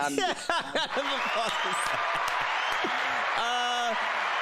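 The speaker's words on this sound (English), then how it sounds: "Round of applause for Zach." Applause on a live NBA talk stream, a sustained crackling wash of clapping mixed with whoops and chuckles, with voices talking over it.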